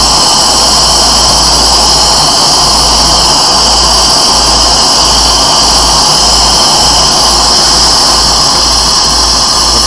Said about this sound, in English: Carlisle is a loud torch.